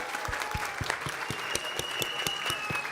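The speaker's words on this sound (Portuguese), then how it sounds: "Salve de palmas, gente." Audience applause at a lecture fills the hall with dense, steady clapping, joined by a few sharper, louder claps that stand out at a regular beat, with no voices over it.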